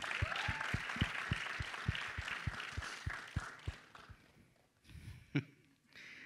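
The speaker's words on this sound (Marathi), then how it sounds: "एकदा जोरदार टाळ्या" An audience at a Marathi film trailer launch event claps in a quick, rhythmic unison beat that fades out after a few seconds, followed by scattered room noise and brief voices.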